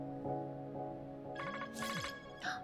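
A flip phone rings in a video game trailer, a bright electronic ringtone in short repeated bursts over background music, with a brief exclamation from a viewer.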